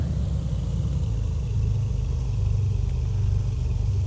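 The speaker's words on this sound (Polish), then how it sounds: "co oznacza, że praca silników jest rozsynchronizowana." The twin engines of a Beechcraft Baron in Flight Simulator X drone with a low, continuous rumble that slowly swells and fades in a beating pulse, the effect of the two engines running out of sync.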